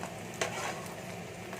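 Chopped onions with cumin seeds fry in hot oil for a prawn kofta curry, a steady close sizzle broken by a sharp stirring scrape, with no talking.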